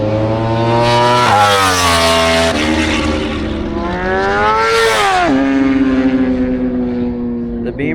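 A BMW motorcycle screams past on a racetrack, its high revving engine rising and dipping through gear changes as it passes close and loud, with people talking over it.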